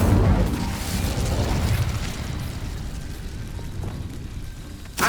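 An Incendio fire spell cast in Hogwarts Legacy erupts with a loud burst at the start, then a rumbling, crackling roar that fades over several seconds before a sharp pop at the end.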